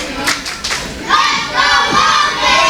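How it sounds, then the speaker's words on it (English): A wrestling crowd rises into a loud, sustained roar and chant for Jake Logan in his match against Prince Handsome, following a few thuds at the start. "Crowd, surprisingly, for the first time in a very long time, is actually chanting for Jake Logan right now"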